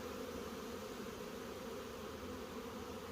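A swarm of honey bees buzzes in a dense, steady drone that holds close and unbroken throughout, with no voices.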